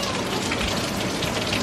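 Hail falling outdoors makes a loud, dense, continuous pattering and hissing that fills the scene close by.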